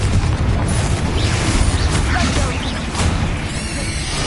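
Explosive spell blasts from Bombarda and Confringo in Hogwarts Legacy: a dense, continuous low rumble with repeated booming bursts over a busy game soundscape.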